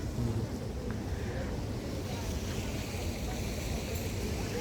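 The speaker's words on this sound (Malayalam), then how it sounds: "തണുത്ത കാറ്റുമുണ്ട്" Steady cold wind buffets the microphone with a constant low roar and rumble, loud and unbroken throughout.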